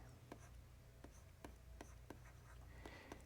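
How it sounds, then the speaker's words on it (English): Chalk or marker taps and strokes across a classroom board as an integral is written out, a series of short sharp ticks and scratches at uneven intervals, very faint and close, with no talking. "Let me write out that integral for you here on the board."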